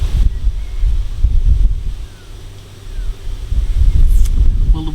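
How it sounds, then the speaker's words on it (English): Strong wind gusting at a carp fishing lake, buffeting the microphone with a loud low rumble that swells, briefly eases, then surges again. "Well, the wind's picked up, blowing stronger"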